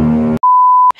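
A camera gives a single clean electronic beep, a steady half-second tone that follows a brief burst of muffled sound and ends with a short click.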